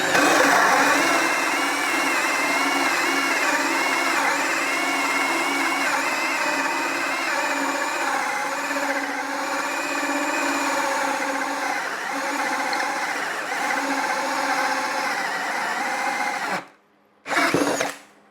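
A Ryobi ONE+ HP 18V brushless compact drill on a 1.5 amp-hour battery bores with a 2-inch hole saw, a loud close whine that holds steady and wavers under load, then cuts out briefly near the end.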